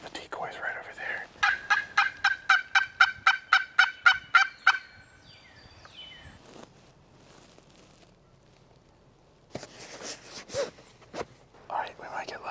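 A wild turkey gobbles nearby during a spring turkey hunt in Indiana, a rapid series of about a dozen loud, regular calls, followed by quieter rustling and soft whispered talk.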